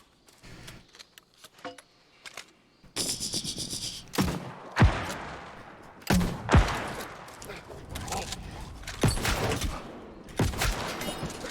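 Mortar fire and explosions in the online role-playing game New World, a series of sharp loud booms and blasts with crackling debris, scattered irregularly across the scene amid battle noise.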